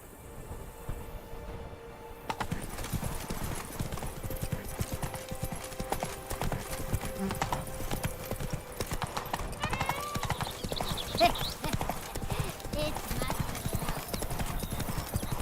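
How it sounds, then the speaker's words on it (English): A horse gallops in the video game The Witcher 3 with rapid, rhythmic hoofbeats that continue throughout, while a voice speaks over them. "Run, Roach"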